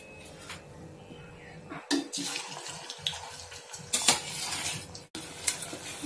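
Taro root pieces hit hot oil with bursts of sputtering sizzle and clatter against the pan, loud and uneven, with a sharp break near the end and a person talking underneath.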